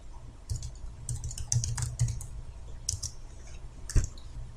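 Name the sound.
typing Korean text on a computer keyboard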